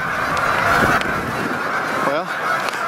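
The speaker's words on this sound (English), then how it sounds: "These birds are literally within 50 yards of us." A large flock of geese on an icy river during a goose hunt, a dense continuous chorus of honking from many birds fairly close by, loud and overlapping throughout.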